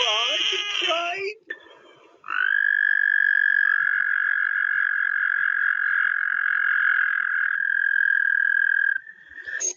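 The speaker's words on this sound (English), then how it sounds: "That one probably sounded like the ribbit that we thought all frogs made." A frog gives one long, sustained, high-pitched trilling call lasting several seconds, loud and close, preceded by a brief whimpering cry and a short scratchy burst.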